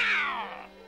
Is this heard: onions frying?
no